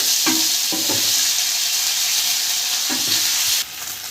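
Ginger paste, garlic cloves and green chilies sizzle steadily in a hot pan for a paneer curry, with a few soft stirring scrapes and the frying hiss dropping slightly near the end; close and fairly loud, no talk.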